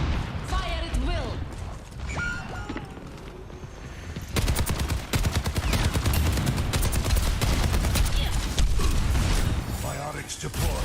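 Rapid automatic gunfire crackles in Overwatch 2 during a competitive match. After a quieter stretch of game voices, dense continuous bursts take over and run under occasional speech.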